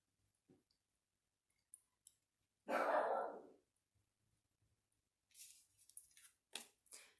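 A dog gives one sharp, upset bark that rings out briefly in a quiet room, with scattered small clicks and taps before and after it.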